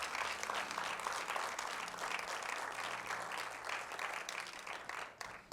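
A church congregation gives sustained, loud applause that fills the room evenly from start to finish.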